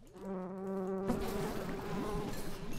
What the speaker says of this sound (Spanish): Venid aquí, malditas Malditas Avispas, qué susto que me habéis dado